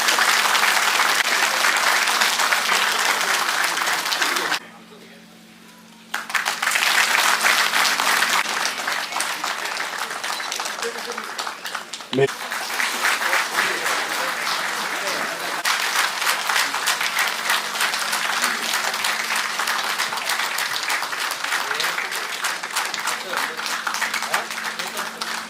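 An audience applauds at an environment seminar attended by Chief Minister Pema Khandu, a dense, sustained round of clapping filling the hall, briefly dipping before resuming strongly with a steady low hum underneath.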